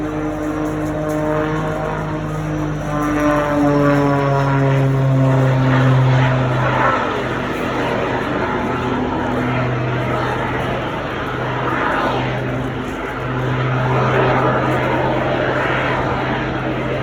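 Star 20 propeller aircraft flying an airshow display at Eastbourne, a loud sustained engine drone with shifting pitch as it passes, continuous throughout.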